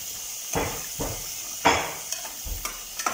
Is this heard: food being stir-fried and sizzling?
yes